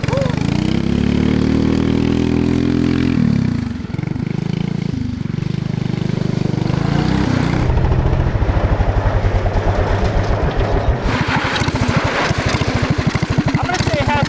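A revived big block race go-kart engine runs loud and close, shifting between a rising rev and a rough, rapid-firing idle. The raw mechanical pulse is harsh, and a voice can be heard partway through.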